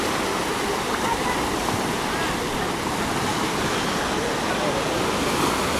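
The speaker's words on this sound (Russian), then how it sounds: "Вот такие вот волны сейчас идут все-таки." Sea surf breaks on a beach at Alanya's Oba district, a broad steady wash of waves with wind noise, continuous and fairly loud throughout.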